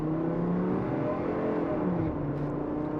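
A Chevy truck launches from a dead stop with its rear wheels spinning and hopping, heard as a steady, loud engine roar with a whirring drone and no talk.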